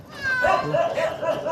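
A cat being rescued meows in a string of drawn-out, wavering cries heard close up, overlapping one another against a low background murmur.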